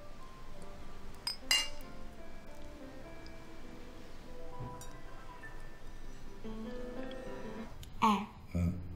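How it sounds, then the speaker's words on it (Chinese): Glasses clink together in a toast at a dinner drama scene, a bright short chime early on and another sharper clinking moment near the end over a quiet room background. "干杯。"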